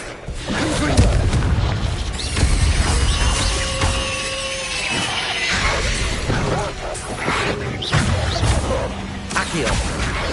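Confringo spell explosions in Hogwarts Legacy, booming blasts and whooshes piling up in a continuous loud battle din, with a voice talking over it.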